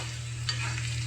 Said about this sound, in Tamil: அதுவும் இந்த கருவாடு வறுத்த எண்ணெயில் வந்து நான் தாளிக்கிறேன்ல